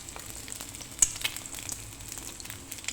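Garlic paste with cumin and mustard seeds sautéing in a pan, a quiet close sizzle with scattered small pops and crackles throughout.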